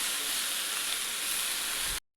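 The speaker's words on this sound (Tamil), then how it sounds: "இப்போ இந்த தக்காளி நல்லா வதக்கிக்கலாம்." Loud, steady sizzling of tomatoes sautéing in a pan for onion tomato chutney, a continuous hiss that stops abruptly at the end.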